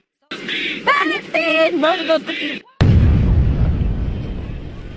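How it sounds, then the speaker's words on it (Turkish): A deep, heavy boom of a bomb explosion crashes in suddenly after a few seconds of voices and rumbles away slowly, loud and close. "Bütün gece boyunca böyle bomba sesleri duyuyorsunuz."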